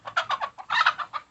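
An older red hen on a homestead clucks in a rapid series of short, close calls, grouped in bursts with brief pauses, with no voices over it.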